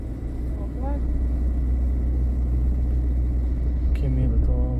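A car passes with a steady low engine and road rumble that swells slightly, while voices talk over it.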